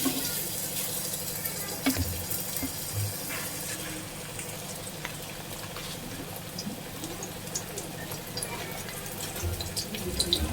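Mutton chops frying in a tablespoon of oil in a non-stick pan, a steady crackling sizzle with scattered pops and spits, heard close and continuous without talk.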